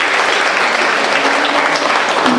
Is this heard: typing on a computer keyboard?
no